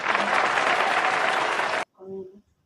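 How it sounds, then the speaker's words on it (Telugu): A short burst of dense clapping that cuts off abruptly, followed by a brief spoken voice indoors. "చప్పట్లు"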